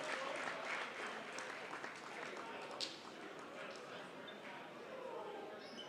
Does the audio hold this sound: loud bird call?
no